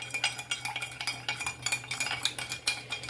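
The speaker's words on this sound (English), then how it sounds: "you have to stir this till the sugar gets dissolved" Fresh lime soda with salt and sugar stirred by a spoon in a glass, a quick rhythmic series of metallic clinks and scrapes repeating close and clear for several seconds.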